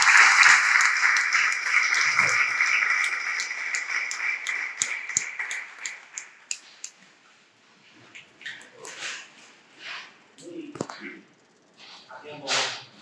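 An outdoor audience at an August award ceremony breaks into loud applause that fades over several seconds into scattered claps, stray voices and quiet murmuring.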